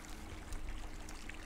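Steady rushing river water in the video game Firewatch, a continuous broadband wash that holds an even, fairly close level throughout with small splashy flickers and no voices.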